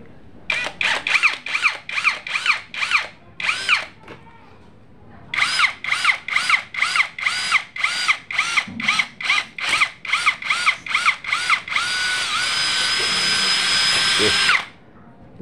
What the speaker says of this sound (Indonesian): saya akan lakukan pengeboran di media besi ya, dengan mata bor besi di